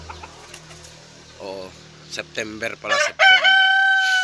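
Backyard chickens clucking, with a rooster crowing loudly toward the end, near and clear, while a person talks briefly over the birds.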